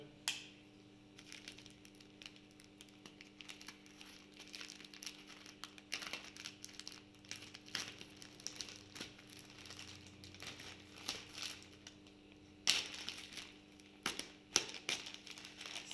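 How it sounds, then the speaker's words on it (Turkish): A shipping package holding mushroom growing soil and spawn is opened, giving quiet, intermittent crinkling, rustling and tearing of packaging, with sharper bursts near the end and no talking. "Daha hiç açılmadı kargomuz. Hep birlikte şimdi açalım."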